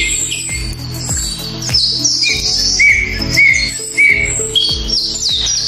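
Pet lovebirds chirping indoors, a busy stream of sharp, close tweets and squawks repeating in quick bursts, with no talk over them.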